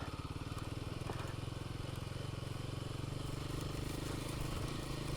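Royal Enfield Himalayan 450 motorcycle engine pulling uphill on an adventure ride under throttle, a loud, steady, throbbing drone close to the rider that swells slightly toward the end, with faint wind noise and no one speaking.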